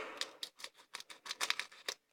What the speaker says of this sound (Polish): A i zapomniałem, miałem nożyczkami.